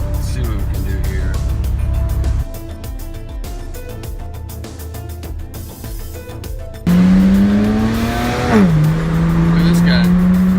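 BMW 135i engine after a full tune-up while driving: a loud engine drone that drops off, then returns as a strong rising rev with a gear change and a steady pull, with traffic noise around.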